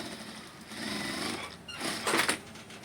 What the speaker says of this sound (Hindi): सिलाई मारेंगे।